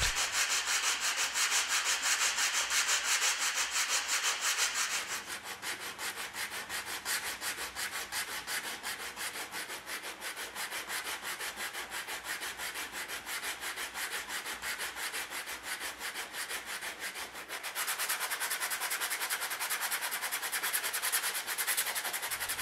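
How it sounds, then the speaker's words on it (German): Steady, continuous rasping of sandpaper rubbed back and forth over a repaired plastic car bumper, close and loud, shifting slightly in tone partway through. "wird die Stelle mit Schleifpapier plan geschliffen"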